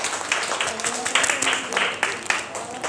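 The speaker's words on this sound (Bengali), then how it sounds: "সবাই হাততালি দেই।" Applause from an audience at a learning-centre prize-giving for schoolchildren: a steady, crackling patter of many hands clapping that carries on throughout, with voices mixed in.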